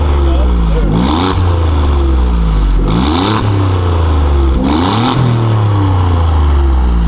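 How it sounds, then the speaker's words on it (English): A car engine with stock exhaust and mufflers idles with a deep rumble and is revved three times, each rev rising then falling back, a voice speaking over it. "So I'm gonna crank it for you guys, let you guys hear it with the stock exhaust."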